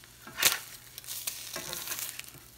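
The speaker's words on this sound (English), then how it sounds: "And I'm using a plastic spatula here." A plastic spatula scrapes and turns food in a sizzling Rock Heritage deep fry pan, with one sharp scrape near the start, then lighter scuffs over a steady close frying hiss.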